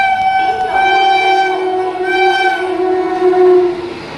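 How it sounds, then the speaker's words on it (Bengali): A Sealdah–Jhaki Road express train pulls out with a loud, sustained horn. It sounds close by, with the tone wavering and swelling over several seconds above a low rumble of the train. "ঠিক লালগোলার পরে এই একটা এক্সপ্রেস ট্রেন বেরিয়ে গেল"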